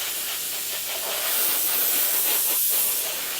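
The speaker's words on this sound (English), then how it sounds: "And don't worry about what pressures you're spraying this out or anything else." Liquid sprayed onto a 1/35 scale Meng Terminator model kit, a continuous close hiss of spray that swells slightly midway, with no talk.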